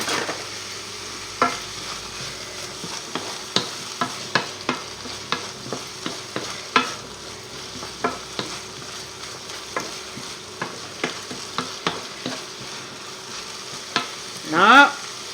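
Potatoes tossed into a frying pan and stirred, a continuous sizzle with regular clinks and scrapes of a utensil against the pan, ending in a louder clatter near the close.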